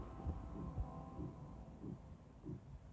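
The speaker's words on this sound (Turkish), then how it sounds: "Kalp atışımız mı?" A slow, muffled heartbeat thumps in a horror video game, low pulses repeating roughly every half second to second over a faint steady hum, with no voices.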